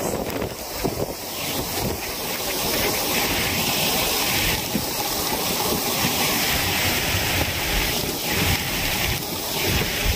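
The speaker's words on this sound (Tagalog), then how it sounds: "Grabe, lakas ng hangin." Strong winds from Typhoon Kabayan batter a boat at sea in December 2023, producing a loud roaring rush of wind against the microphone with surging waves beneath, sustained across the whole stretch.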